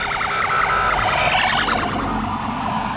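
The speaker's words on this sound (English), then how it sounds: "We've got a police car" A police car siren wails on a street called the Mall in London, near Buckingham Palace. Its repeating up-and-down tones are loud and fairly close over traffic noise, then fade a little toward the end.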